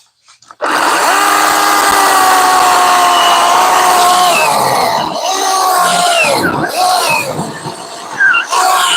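A Ryobi battery-powered chainsaw cuts through wood with a loud, sustained electric motor whine that starts abruptly and holds for several seconds, then wavers and drops as the cut finishes.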